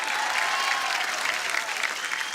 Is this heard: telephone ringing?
no